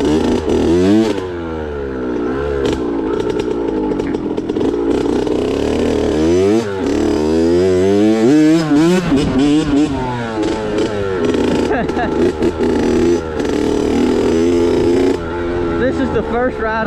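Kawasaki KX65 two-stroke pit bike ridden on a trail, its high, buzzy engine revving up and down in repeated surges and wheelies, close and loud with rattles and scrapes throughout.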